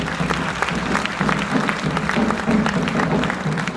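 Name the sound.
audience applause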